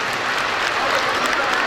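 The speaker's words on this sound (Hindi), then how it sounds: "भरपूर तालियां होनी चाहिए।" Steady, dense applause from a large audience at a convention event in Islamabad's Silver Jubilee Convention Center, filling the whole clip at an even, close level with no break.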